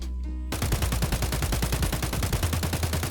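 An AK-103 rifle fires a rapid full-auto burst in Escape from Tarkov, a steady stream of sharp, evenly spaced shots that runs loud and unbroken for nearly three seconds after a brief quiet start.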